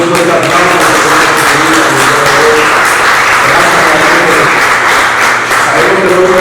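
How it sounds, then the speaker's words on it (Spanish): A church congregation applauds loudly and continuously, a dense wash of many hands clapping at once that holds steady from start to finish. "Pido un fuerte aplauso."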